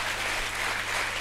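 A television studio audience claps steadily for a guest called Le Condor, a brief, even wash of applause with no pauses.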